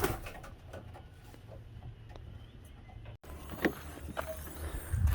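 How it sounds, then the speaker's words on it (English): Young racing pigeons softly cooing and murmuring before a training flight, a faint steady low coo under rustling and a low background hum, with a brief dropout midway and scattered small bird calls. "pretty much all these birds here in front of us are our test subjects"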